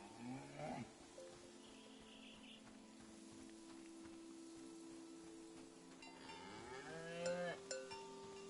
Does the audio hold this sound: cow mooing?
yes